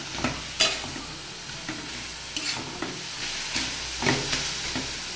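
Banana flower (mocha) curry stirred in a pan, a soft continuous sizzle with occasional spatula scrapes and taps spaced a second or so apart, moderately close and fairly quiet.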